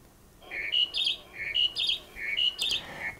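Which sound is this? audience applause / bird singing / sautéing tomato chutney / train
bird singing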